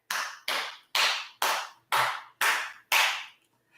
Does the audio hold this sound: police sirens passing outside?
no